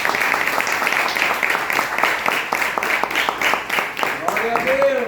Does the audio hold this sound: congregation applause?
yes